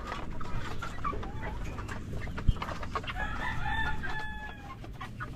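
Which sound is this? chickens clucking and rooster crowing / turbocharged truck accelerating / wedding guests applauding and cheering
chickens clucking and rooster crowing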